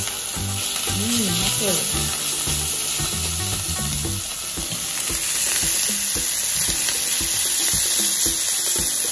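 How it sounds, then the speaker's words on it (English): Mushrooms searing in a very hot pan, a loud steady sizzle that continues throughout with a few stirring scrapes, while a person briefly talks over it near the start. "So the pan is nice and hot now, and it should be, and we would like to sear the mushroom."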